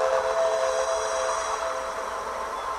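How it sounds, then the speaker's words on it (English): Two toy tugboats tooting their whistles, a sustained tonal whistle blast held steady and fairly loud, with a faint rumble underneath and no talking. "Hank and Theodore were so thrilled, they couldn't help but toot their whistles"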